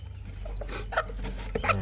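Young chickens cluck and chirp in short, scattered calls close by, several birds overlapping over a low steady background hum.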